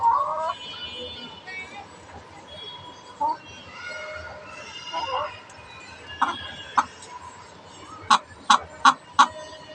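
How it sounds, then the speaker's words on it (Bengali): A household hen clucks again and again, with sharp, loud calls toward the end, while a person talks over part of it. "সারাক্ষণ এইভাবে ডাকাডাকি করে এই মুরগিটা"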